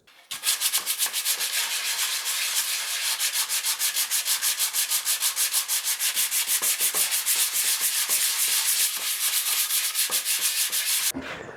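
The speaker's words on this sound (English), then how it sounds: "get some sandpaper on the job and see how good this actually is" Sandpaper rubbed back and forth over the wooden body of a Les Paul Junior electric guitar, a steady, close and loud run of rapid rasping strokes that continues without pause and stops abruptly at the end.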